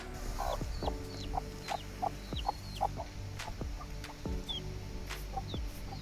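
Free-range chickens, one hen having just hatched a chick, cluck repeatedly nearby in short, uneven bursts, with a few higher chirps mixed in.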